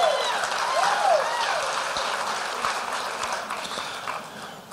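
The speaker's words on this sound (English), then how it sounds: "how about a big round of applause for all of our contestants in our talent portion" Crowd applause for contestants at a senior pageant talent portion, dense clapping that carries through at fair volume and slowly tapers, with some voices and music-like tones faintly underneath.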